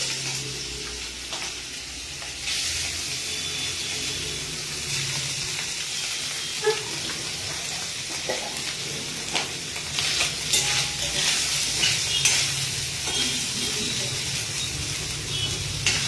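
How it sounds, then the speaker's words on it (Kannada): Paneer frying in hot ghee, a continuous close sizzle with bursts of spitting and occasional clinks of a utensil stirring the pan, steady and loud for the whole stretch without any talking. "ತುಪ್ಪ ಬಿಸಿ ಆಗಿದೆ. ಈಗ ಪನ್ನೀರನ್ನ ಆಡ್ ಮಾಡ್ಕೊಂತ ಇದ್ದೀನಿ."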